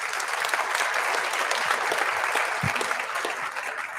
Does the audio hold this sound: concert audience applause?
yes